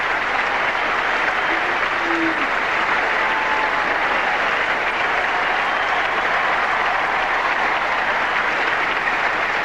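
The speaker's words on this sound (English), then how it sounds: "the crowd that are going to cheer as he walks up to receive this trophy" Sustained, loud crowd applause fills Wimbledon's Centre Court in 1979 as Bjorn Borg walks up to receive the trophy from the Duke of Kent, a steady dense ovation with no speech.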